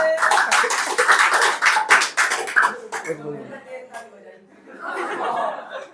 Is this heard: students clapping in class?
yes